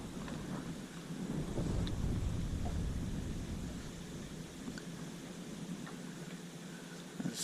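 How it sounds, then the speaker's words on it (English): Strong wind blows outdoors at a lake during crappie fishing, a steady broad rushing roar buffeting the microphone, swelling louder for a few seconds then settling into a constant gusty hiss, with no talking. "this wind is something else"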